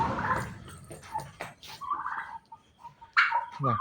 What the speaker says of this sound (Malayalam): ഇതാണ് ടർക്കി